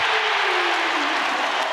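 Basketball crowd cheering loudly at a college game, a steady dense roar of voices and applause filling the arena throughout.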